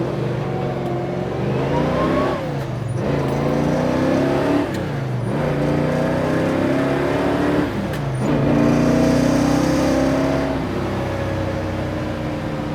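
A 1970 Chevrolet Chevelle SS with a big-block V8 accelerating on the road, its engine note climbing through three or four gear pulls with brief dips at each shift, heard steadily from inside the car.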